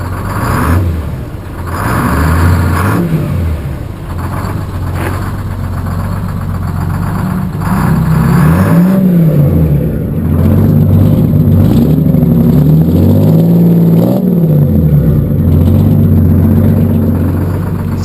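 A large Detroit Diesel engine idles, then revs up and down several times with the throttle, loud and close.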